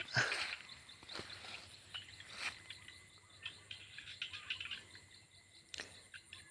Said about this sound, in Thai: มีเสียงเขียดครับ